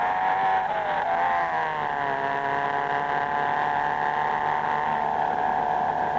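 Race car at full throttle in 1964 on Longford circuit's Tannery Straight, a loud, steady engine drone climbing in pitch as it pulls through third, fourth and fifth gears at about 160 mph.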